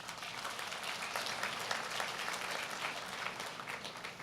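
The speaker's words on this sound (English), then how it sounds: "it's not surprising that your families and friends lead that applause." Families and friends applaud at a university convocation ceremony, a steady wash of many hands clapping in a large hall, moderately loud and continuous without pause.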